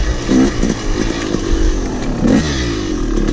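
A Yamaha YZ 250 dirt bike runs on a motocross track, its two-stroke engine buzzing loudly and continuously with short revving surges.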